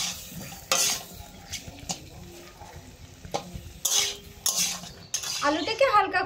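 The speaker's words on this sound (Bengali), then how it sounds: "এই আলুগুলোকেও আমি মশলার সঙ্গে হালকা একটু কষিয়ে নেব।" Boiled potatoes are stir-fried with spices in a pan while making crispy flour-and-potato kachori, a spoon scraping and clinking against the metal in irregular bursts over a soft sizzle, close and with no talk.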